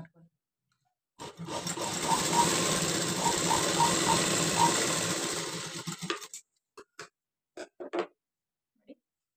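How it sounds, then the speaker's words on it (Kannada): A sewing machine runs steadily for about five seconds, stitching blouse pieces together. The whir is close and fairly loud, and a few short taps and clicks follow once it stops. "ಹಂಗಾಗಿ ನಾನು ಈ ರೀತಿ ಸ್ಟಿಚ್ ಮಾಡ್ಕೊತಾ ಇದ್ದೀನಿ."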